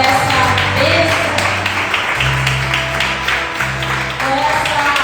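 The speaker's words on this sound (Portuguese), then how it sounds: "Vamos aplaudir ao Senhor por essa bênção" A church congregation claps together in praise, a broad, steady wash of many hands over sustained organ-like musical tones, loud and continuous with brief dips.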